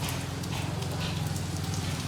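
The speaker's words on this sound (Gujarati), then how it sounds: "આમ વરસાદ જુઓ, બહુ નથી આવતો પણ આમ આવે છે સારો એવો" Light rain falls in a steady, even patter of drops on surfaces, continuous and fairly close, with no voices.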